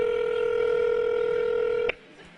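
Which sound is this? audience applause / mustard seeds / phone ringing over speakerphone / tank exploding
phone ringing over speakerphone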